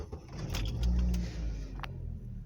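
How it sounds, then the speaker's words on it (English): Mazda FP engine fitted with a Mazda FS ECU and a newly installed knock sensor cranks and starts, a brief rising rumble that settles into a low idle, close by, with a few clicks at the start. "Okay, knock sensor is installed. Start the engine."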